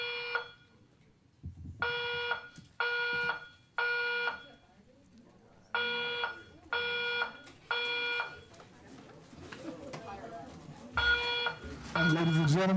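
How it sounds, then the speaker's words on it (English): A fire alarm in a city council chamber blares in repeated loud tonal bursts, pausing between groups, while people talk and shuffle in the room underneath. "we have a fire alarm"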